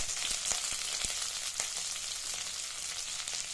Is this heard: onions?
yes